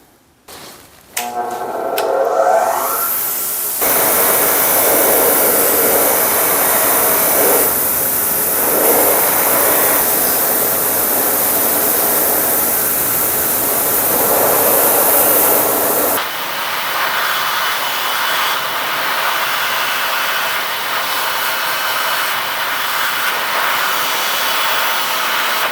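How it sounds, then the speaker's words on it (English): A wire wheel grinds against a pair of Utica duckbill pliers. A loud, continuous hissing whir runs for most of the stretch, with shifting pressure along the way, then gives way to a quieter, steady motor hum as the work lifts off the wheel. "I'm going to get these cleaned up on the wire wheel"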